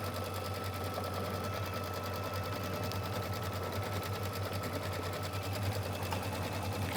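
An embroidery sewing machine stitches out onto stabilizer, a rapid, steady mechanical chatter with a constant low hum, running close and evenly without pause for several seconds.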